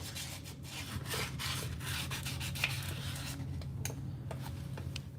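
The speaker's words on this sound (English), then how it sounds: "Okay, so get this all sanded up." Close, steady sanding, with a sanding block or paper rubbing back and forth in quick repeated strokes over a constant low hum.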